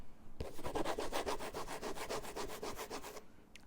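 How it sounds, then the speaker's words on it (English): Fingernails scratch hard across the coated canvas of a Gucci Horsebit 1955 mini bag held close to the mic, a quick rhythmic rasping that repeats steadily for about three seconds between quiet moments. "taking my nails and not even gently, but pretty strong, scratching them all over the canvas"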